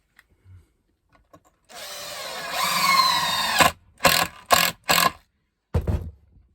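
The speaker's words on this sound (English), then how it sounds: "I'm going to fix them in place with these inadequate screws" A power driver sinks screws into small offcut wood blocks for a camper bed. There is one longer whirring drive of about two seconds, then several short, sharp bursts as the screws are tightened, with pauses between them, close and loud.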